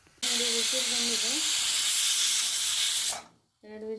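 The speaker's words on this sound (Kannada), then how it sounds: "ನೋಡಿ, ವಿಜಿಲ್ ಬಂದಿದೆ." A pressure cooker whistle blows while ginnu, a set milk pudding, cooks: a loud, steady jet of hissing steam with a wavering tonal whistle at its start, running about three seconds before cutting off, then a short whistling tone returns.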